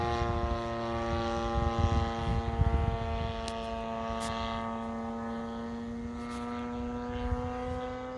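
Great Planes 50cc Revolver radio-controlled plane on its maiden flight, a steady buzzing petrol engine drone rich in harmonics, moderately distant with slight rises and falls in pitch as it passes overhead.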